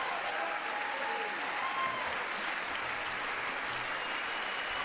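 A crowd in China claps steadily and densely throughout, a continuous wash of applause at even loudness with no talk over it.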